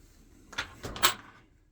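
Small drawers in a bank of cabinetry inside a 2023 Mercedes-Benz Sprinter 144 high-roof camper van slide and knock, three quick close thuds within about a second.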